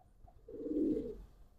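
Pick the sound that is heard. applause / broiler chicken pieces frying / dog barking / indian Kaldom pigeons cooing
indian Kaldom pigeons cooing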